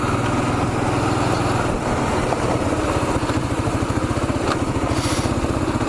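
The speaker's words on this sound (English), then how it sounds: "We've got some other motorcycle campers." Motorcycle engines idle at a campground, a loud close continuous rumble with a rhythmic low throb that grows more pulsed partway through, with no voices heard.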